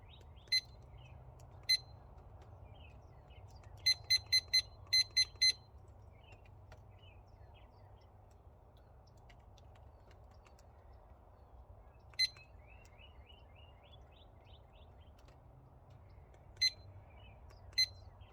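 A smoker probe thermometer timer gives sharp, faint electronic beeps as it is set. Most come singly, with one quick run of several beeps, over a low steady hum.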